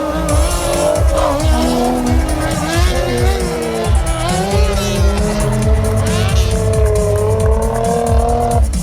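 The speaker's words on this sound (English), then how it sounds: "the car tries to knock him off his bike, oh, and then the bike takes off again" Cars race at a Santa Pod Bug Jam drag strip event, with loud revving engines and repeated tyre squeals in a dense, continuous roar close by.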